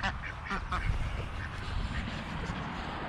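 Ducks on a hobby farm quack in a steady chorus close by, with someone speaking over them throughout.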